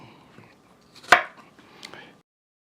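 Steak being chopped into chunks: one firm, sharp knife chop onto a board, then a softer second chop a moment later, in otherwise quiet surroundings.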